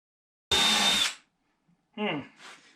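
A power drill whirs in one loud, steady burst while driving screws into the back of a homemade boot brush, then after a pause a short second run spins up and winds down, alone without talk.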